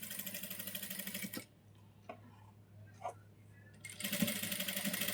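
A sewing machine stitches lace into a round shape, running loud and steady in two stretches with a quiet pause between them, during which small clicks and faint handling sounds are heard.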